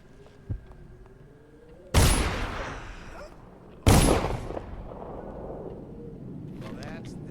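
Two loud gunshots from Dishonored, each a sharp broadband blast with a ringing tail, about two seconds apart, over quiet ambient game sound.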